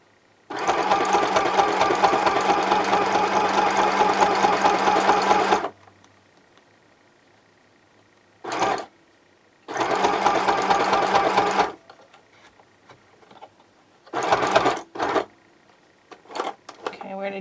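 Sewing machine stitching fabric in long steady bursts of fast needle rhythm, pausing while the presser foot is lifted and the fabric turned, then resuming in shorter runs and brief stutters.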